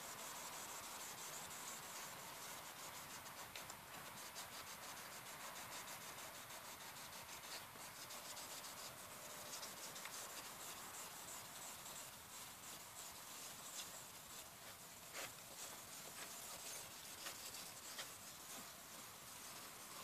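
A car headlight is wet- or dry-sanded by hand with 800 grit sandpaper, producing a continuous close, gritty scrubbing rasp in steady back-and-forth strokes for about twenty seconds, with no talking.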